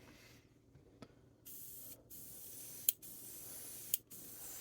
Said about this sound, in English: Just spray one base coat of that stuff.